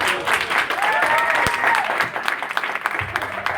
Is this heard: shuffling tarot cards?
no